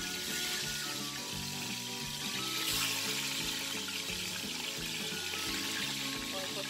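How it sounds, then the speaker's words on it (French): Salted, peppered tilapia fries in hot oil, giving a steady hissing sizzle that plays under background music throughout. "je vais le faire frire rapidement"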